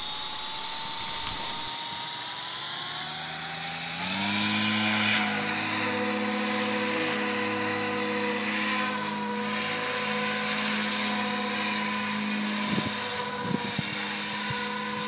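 A Blade 500X RC helicopter spools up, its motor whine rising in pitch, then lifts off and hovers close by with a loud, steady, high-pitched buzz of rotor and motor. A few brief clicks sound near the end.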